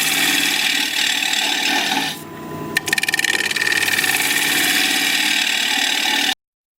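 A tool scrapes a spinning Russian olive wood bowl on a lathe in a loud continuous rasp over the motor, dipping briefly before a click and resuming.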